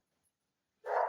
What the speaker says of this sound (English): Sorry about the dog though. I don't know why it's barking up and down.